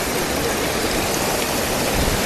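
Cold mountain stream at 900 Kandi in Kerala rushing steadily over rocks, a dense, continuous broadband wash of flowing water, close and loud with no pauses.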